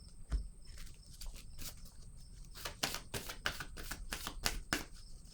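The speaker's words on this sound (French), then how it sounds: "Je vais prendre une autre carte ici." A card is drawn from a deck during a French-language card reading: quiet papery rustles and a few crisp snaps and flicks, close and soft, with no speech.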